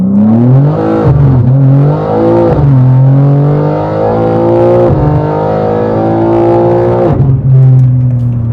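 A BMW G80 M3 Competition xDrive revs and accelerates hard, its loud exhaust rising and falling through several pulls with gear changes, burbling between bursts, close and without talk.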